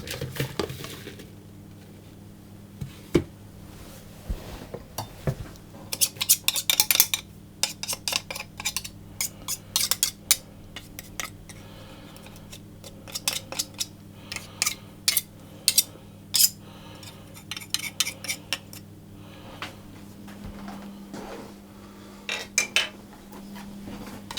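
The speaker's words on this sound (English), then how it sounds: "I'm actually just going to tip that out into a larger bowl" Hazelnut biscuit dough is tipped from one bowl into a larger bowl, giving scattered knocks, scrapes and clinks of bowl and utensil against a quiet background hum, irregular and close, with no talking.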